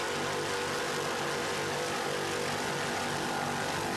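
The engine of an offshore racing powerboat, an A-Class boat at the 1993 Montauk Grand Prix, drones steadily at a fairly distant, subdued level without pause.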